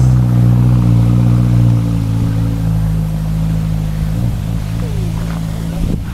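A passing car hauling grass for cows on a road by the Lembang Fault, its steady mid-range engine drone loud and close throughout, easing slightly toward the end.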